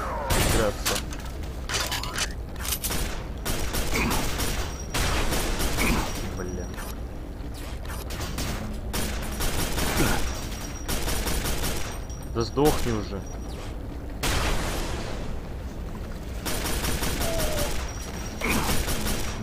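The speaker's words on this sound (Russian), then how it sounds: "Блин, кто по мне стреляет?" Rapid gunfire aimed at the player in the shooter game Quake 4: dense bursts of shots, clanks and mechanical clatter that run almost without a break, loud and close, mixed with other in-game sounds.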